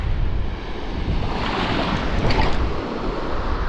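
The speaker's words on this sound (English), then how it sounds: "This wind is northeasterly." Cold northeasterly wind blowing steadily across a sea shore at night during a fishing session, a broad continuous rush with surf noise and microphone buffeting, loud and close throughout with no talking.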